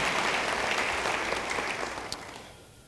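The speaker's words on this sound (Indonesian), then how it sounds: "Beri tepuk tangan yang baik bagi Dia." A church congregation claps together during a worship service, the applause heard at a moderate distance as dense, full clapping that gradually fades toward silence at the end.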